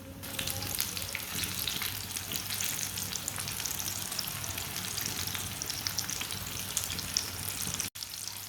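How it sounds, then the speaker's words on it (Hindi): Potato tikki batter sizzles vigorously in hot oil with a steady, crackling fry. It stays fairly quiet and continuous, with a faint clink near the end and no talking. "ऑयल हमारा अच्छी तरह गर्म हो चुका है। अब इसी तरह एक चम्मच लेंगे"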